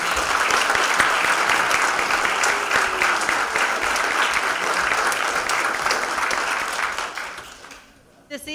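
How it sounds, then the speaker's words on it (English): A theatre audience at a mayor's installation and community service awards evening gives carolers a sustained round of applause, dense and steady before fading out near the end, with a voice faintly audible within it. "I wanted to give them a shout out and a round of applause for their time that they gave us this evening"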